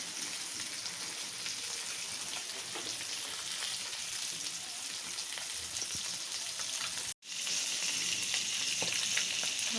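Fish frying in oil in a pan, a steady dense sizzle that runs without pause, loud and close, with a brief cut near the end.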